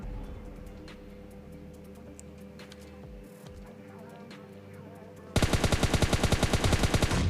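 Rapid automatic gunfire from a battle royale shooter in a squad fight erupts loud and close after about five seconds of low game ambience, cracking in a fast, even burst to the end.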